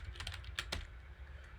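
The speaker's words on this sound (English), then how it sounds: "Typing too fast" Fast typing on a computer keyboard: quick, quiet key clicks come in a rapid irregular run, with a couple of sharper taps standing out against a soft background hum.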